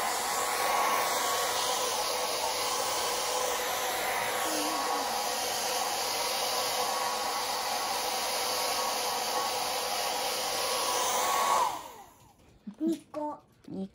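A hair dryer runs steadily and loudly for about eleven seconds with a constant airy whoosh during a home evening routine, then cuts off, leaving brief quiet voices and small sounds.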